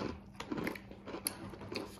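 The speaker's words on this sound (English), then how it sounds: "It's crunchy." Close, quiet crunching of Takis rolled corn tortilla chips being chewed, a few sharp bites and crackles spaced through two seconds, no talking.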